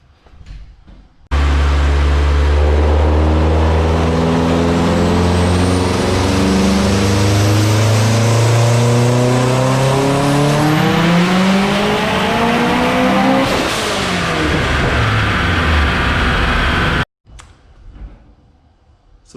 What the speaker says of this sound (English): I hope you enjoyed the sounds of 820 horsepower spooling on the dyno